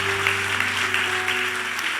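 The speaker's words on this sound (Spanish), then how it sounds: "Dale un fuerte aplauso al Señor." Congregation clapping during a Spanish-language church service, a continuous mid-level patter of many hands under a steady sustained organ or keyboard chord humming beneath it.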